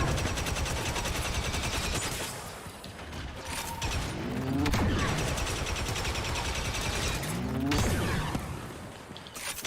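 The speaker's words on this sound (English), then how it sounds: "I'm literally shooting this guy in the face" Rapid automatic gunfire in a video game, dense bursts of shots over a mechanical clatter, loud and near, running almost continuously with short gaps.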